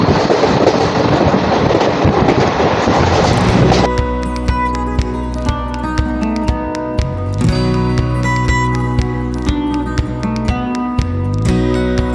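A DEMU passenger train runs on rails between Agartala and Kumarghat just after passing through a tunnel. A loud broadband roar gives way to a steady engine hum with rhythmic wheel clicks over the joints.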